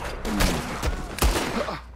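Gunshots ring out in the game Red Dead Redemption 2, three sharp loud cracks spaced about half a second apart, each with a short echoing tail, over faint background sound.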